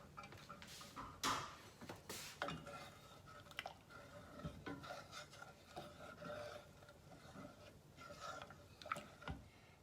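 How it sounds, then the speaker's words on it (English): A spoon scraping and stirring a sugar and warm milk mixture in a pot, producing repeated rasping and clinking strokes at a quiet, steady level with occasional sharper knocks against the pot. "So I'm stirring this until the sugar is dissolved."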